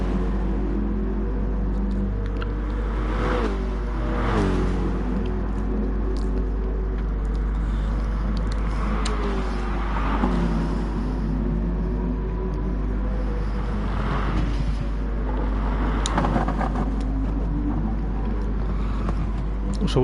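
A BMW GR3 race car engine in a sim racing endurance event at Interlagos drones steadily at high revs, rising and falling with gear changes under a constant low hum.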